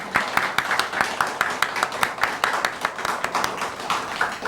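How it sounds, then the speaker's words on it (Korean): A Korean church congregation claps together in a rhythmic, unified beat, sharp repeated hand claps in a steady pulse over a soft background murmur. "우리 한번 박수로 격려하겠습니다."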